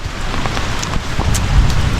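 Heavy rain pours steadily outdoors, a dense, continuous hiss with scattered louder drops and a low rumble that swells slightly near the end.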